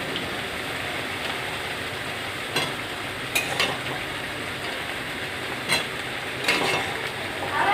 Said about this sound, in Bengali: মশলাটা ভালো করে কষাতে কষাতে এদিকে আমি আরেকটা কড়াতে আলু ভেজে নিচ্ছি